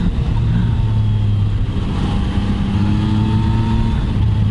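A 2019 Yamaha MT-09 motorcycle engine runs loud and close under a continuous throaty roar, its pitch rising and falling slightly as the throttle is worked while riding.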